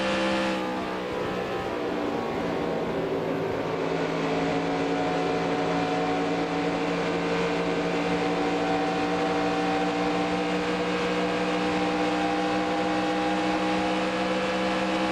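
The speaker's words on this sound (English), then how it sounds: "The engine just sounds a little higher." Stock car engine in the NASCAR Racing 2003 video game, a loud sustained high-pitched drone holding steady at high revs, with a slight rise early on and no talk over it.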